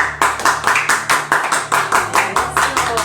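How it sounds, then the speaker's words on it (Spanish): A church congregation claps in unison during a service, a steady rhythmic beat of about four claps per second, fairly close, with a low tone underneath. "Un aplauso al Señor"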